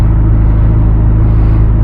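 A 2025 Corvette Z06 supercar engine drones loudly and steadily from close by while driving, a deep, even rumble with no talking.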